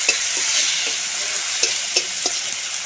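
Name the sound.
stirring onion, tomato, ginger and chilli powder frying in oil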